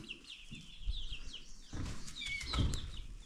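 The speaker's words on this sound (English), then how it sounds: "they're chickens." Chickens cluck and chirp in a busy, overlapping chorus close by, with some rustling and shuffling beneath the calls.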